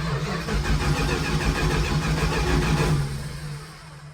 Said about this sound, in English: Why does the starter sound like that?